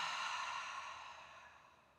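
A slow breath let out during a yoga class, close and soft, fading gradually over a couple of seconds into quiet.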